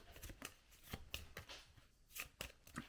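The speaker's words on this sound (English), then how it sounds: "And we're going to shuffle it into our event deck." Event cards for the Mythwind board game are shuffled into a deck by hand on a table, making a series of crisp riffles and soft slaps that come quietly at close range with no talk.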